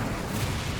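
An Incendio fire spell cast in Hogwarts Legacy, a dense, roaring burst of flame that fills the short moment at a steady, close loudness with no pause.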